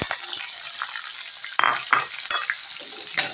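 Ground spice paste for sambal goreng jengkol sizzling hard in a hot pan, with scraping stirs and spatula clatters breaking through the steady frying hiss up close.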